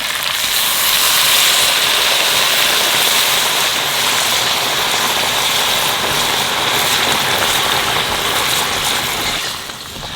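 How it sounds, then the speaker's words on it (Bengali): Hot water poured into a pan of fried country chicken curry, a steady broadband rushing hiss like rain that holds for about nine seconds before easing off at the end. "আমি গরম জল দিয়ে দেবো।"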